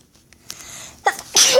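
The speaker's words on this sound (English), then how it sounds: "Not hiccup, I mean sneeze." A single person sneezes once, a short sharp burst close up after a soft intake of breath.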